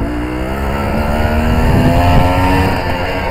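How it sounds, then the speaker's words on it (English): On a road test after a carburettor jet change, a Suzuki TS185 motorcycle engine is heard up close and loud, revving up smoothly with its pitch climbing steadily before easing slightly. "Might be able to get it to really pick up quick there"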